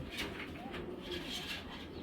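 Racer pigeons at a pigeon sale, giving soft, repeated coos close by under a faint, steady background hum.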